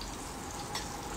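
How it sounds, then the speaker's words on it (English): A soft, steady sizzle of cumin seeds frying in hot oil in a pan, faint and continuous with no talking. "jeera frying here"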